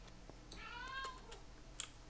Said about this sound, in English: my cat seems to want this episode to come to an end